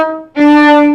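A beginner plays the violin, first bowing one sustained note and then a second note with the first finger pressed down, both loud, close and alone with no talk.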